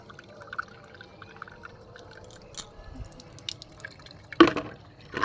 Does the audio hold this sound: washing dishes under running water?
yes